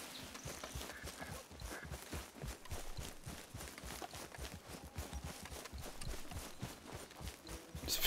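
Horse hooves clip-clop in the video game Red Dead Redemption 2, a steady rhythmic walking gait of soft thuds continuing throughout, fairly quiet and without talk.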